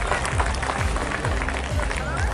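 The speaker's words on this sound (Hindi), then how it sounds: "आप लोग जोरदार इनका स्वागत कीजिए ताली बजा करके" Loud, sustained applause from a crowd welcoming a guest at a fair, dense clapping filling the whole stretch, with a voice speaking over it.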